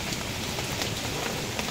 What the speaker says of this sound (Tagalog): Malakas po ang ulan.